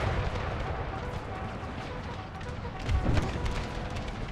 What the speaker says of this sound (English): Howitzer number 2, fire on their main lines.